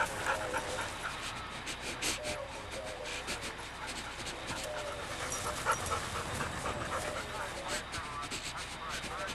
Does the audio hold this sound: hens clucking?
no